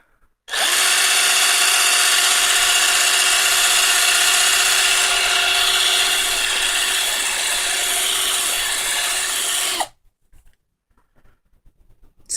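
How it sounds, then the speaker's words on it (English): A small power drill bores into a plastic Gundam MSIA Zaku leg part, whining steadily at high pitch for about nine seconds before stopping abruptly, leaving near silence with a few small handling clicks. "I'm gonna start drilling down this way like that"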